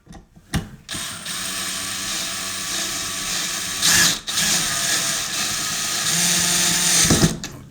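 A power drill with a ratcheting clutch drives a screw tight on a toy zero-turn ride-on mower, loud whirring bursts close up broken by short pauses, ending in clicking ratchet sounds.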